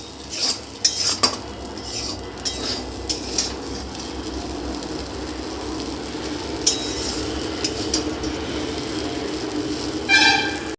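Chow mein noodles stir-fried in a pan, with repeated scraping and clinking of a metal utensil against the pan over a steady low sizzle, close and moderately loud.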